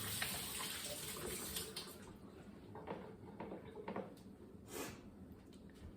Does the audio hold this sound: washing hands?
yes